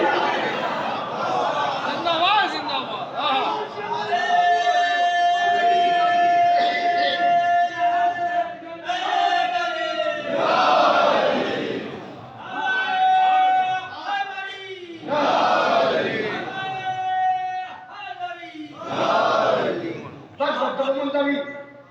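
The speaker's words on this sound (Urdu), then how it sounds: "یہ جو نعرے لگا رہے ہیں نا اس کا مطلب جانتے ہیں" A large religious gathering crowd chanting slogans in loud, rhythmic bursts, massed voices swelling and falling in repeated waves with brief pauses between calls, close and dense throughout.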